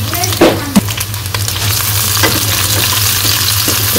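Chopped onion and green chili fry in hot oil with a loud, continuous sizzle and a couple of sharp stirring clinks near the start, heard close and without talk.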